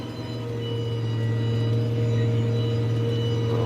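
A tractor engine with a chrome exhaust drones steadily inside a loud cab while pulling a grain cart on an Iowa farm, a constant low hum with layered harmonics and no break.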